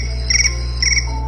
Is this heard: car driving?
no